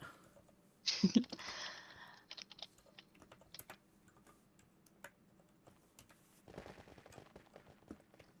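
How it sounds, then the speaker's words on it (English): Quick bursts of clicking on a computer keyboard, typed with a pencil held in hand, faint and close, with a louder clatter near the start and scattered keystrokes afterward. "Typing with a pencil in my hand."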